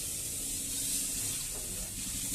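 A steady, soft hiss of water being poured into a pan of banana flower curry, a continuous quiet spray-like wash with no distinct splashes and no voices.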